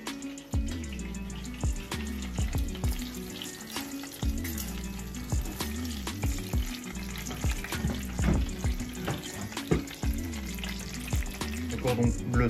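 Homemade cordons bleus sizzle and fry in their pan juices, a steady crackling hiss close by, broken by repeated knocks and stirring sounds from the pan.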